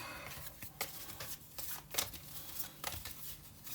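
Mage Knight board game cards being riffled and shuffled by hand, a quiet close run of soft papery bursts in quick irregular rhythm with no talking.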